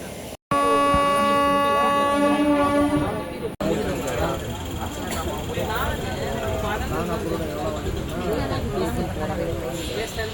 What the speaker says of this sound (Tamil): ஸோ நம்ம ட்ரெயின் கிளம்புற டைம் ஆயாச்சு